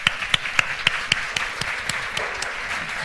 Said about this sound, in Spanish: a ella, a Karina Rivero, le damos un fuerte aplauso y la bienvenida